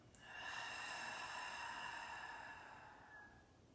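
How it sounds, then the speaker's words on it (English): A deep, open-mouthed exhale during a yoga breathing exercise, one long steady breath of air lasting about three seconds, soft and close, fading gently at the end with no talking. "Exhale, open mouth."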